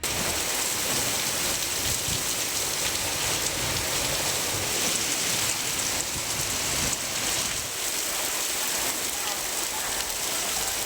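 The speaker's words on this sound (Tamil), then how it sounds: "சூறை காற்றுடன் ஒரு மணி நேரத்திற்கு மேலாக கனமழை பெய்தது" Heavy rain driven by strong gusty wind during a storm in Chennai, a dense, steady roar of downpour that stays loud and unbroken throughout, with no speech.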